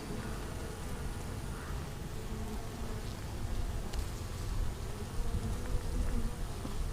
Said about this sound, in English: There's a lot of bees in here for a split like that.